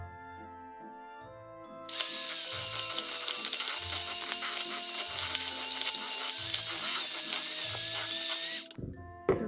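An electric mixer beats frosting with vanilla extract in a mixing bowl, a loud, steady whirring drone for about seven seconds before cutting off, over soft rhythmic background music.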